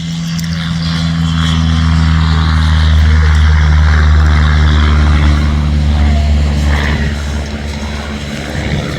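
Small propeller aerobatic plane at the Midlands Air Festival air display, its engine drone loud and steady throughout, swelling slightly mid-pass with a low buzzing hum.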